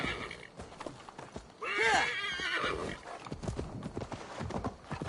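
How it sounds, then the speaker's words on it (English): A horse neighs loudly in Assassin's Creed Valhalla, a rising whinny near the middle, with hooves clip-clopping steadily before and after under a busy game soundscape. "Let me get on my horse."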